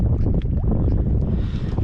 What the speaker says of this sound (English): The wind is picking up a little.